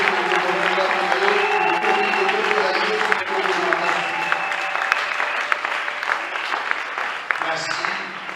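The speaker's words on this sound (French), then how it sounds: "Et si tu es content, tu acclames encore le Seigneur" A congregation at a church prayer night applauds and cheers for several seconds, a dense, sustained wash of clapping and voices that tapers slightly toward the end.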